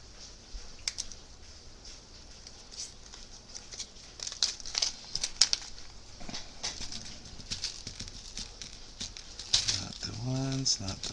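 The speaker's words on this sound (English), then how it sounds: "Have to look through our screws, a multitude of screws" Screws rattle and clink as a hand rummages through a bag of small hardware for RC wheel and tire assembly, with bursts of crinkling plastic and scattered metallic ticks, close and fairly quiet.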